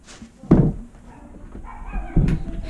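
A door thumps shut with a dull, heavy knock, followed by a second similar thud a moment later amid faint room noise.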